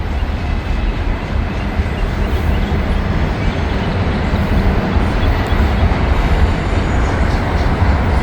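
Train M511 rolls past on the railroad tracks, a loud continuous rumble and roar that holds steady and builds slightly across the whole stretch, with no talking over it.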